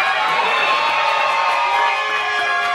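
A loud crowd at a Miss Ronde Région Centre beauty pageant cheers and claps continuously for the candidates, with whoops and high shouts rising over sustained applause.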